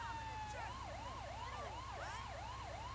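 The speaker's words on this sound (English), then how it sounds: "Probably need to change the sirens around just a little bit" Fire truck siren in GTA 5, a steady wailing tone that rises and falls in quick repeated sweeps over a low engine hum, heard fairly faint and continuous.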